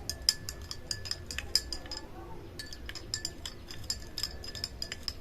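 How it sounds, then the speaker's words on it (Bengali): A spoon clinks repeatedly against a glass while stirring a raw-mango lozenge sherbet, giving a steady run of bright, close taps with faint background noise between them. "সবকিছু দিয়ে এইভাবে মিশিয়ে নেব যাতে ভিতরে লজেস গুলো গুলে যায়"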